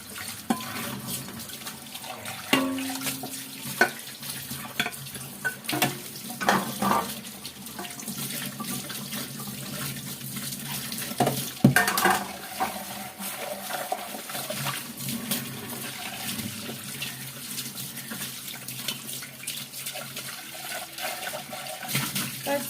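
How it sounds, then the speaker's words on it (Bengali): Pots and pans get scrubbed and rinsed under a running kitchen tap, with steady water flow, clattering metal and scraping throughout, occasional louder knocks, and some talk in the background. "আজকে হাঁড়ি পাতিল ঘষা মাজা সেগুলো একটু দেখাচ্ছি।"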